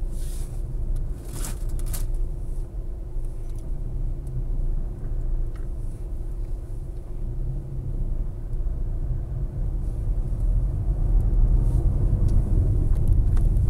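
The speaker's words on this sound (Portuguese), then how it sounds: "Pleno domingão, ó, o trânsito que tá." Road traffic on the BR-116 highway heard from inside a moving car, a low continuous engine and tyre rumble with occasional vehicles passing, steady and fairly loud, no talking.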